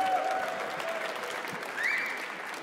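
A conference audience at DLD claps and cheers in a steady wash of applause, fairly distant and moderate in level, with a faint tonal squeal audible partway through.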